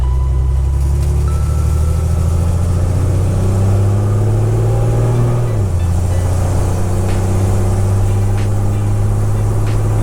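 A loud, raw Jeep engine with no exhaust system drones close up with a deep, unmuffled rumble, its pitch dipping once midway, with no talking.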